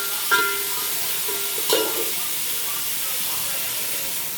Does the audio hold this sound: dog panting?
no